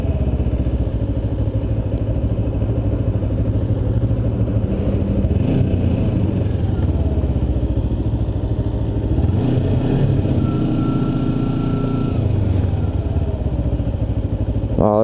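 A 250cc motorcycle engine on the move, droning loud and steady close by with a buzzing low hum, occasional clatter and thumps from the road, and no talk.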